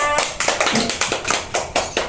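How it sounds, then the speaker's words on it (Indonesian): Applause in a fourth-grade classroom for a pupil after she sticks her collage piece on the board, a small group clapping in loose, distinct bursts, close and fairly loud, with roughly regular strong claps standing out. "Nah, kita berikan tepuk tangan untuk Mbak Yuna"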